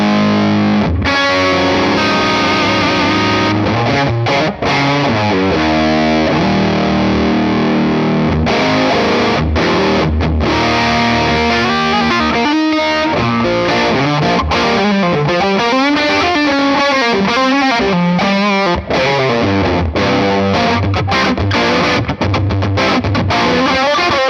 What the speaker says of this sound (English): Stoner rock tone, so a bit of gain.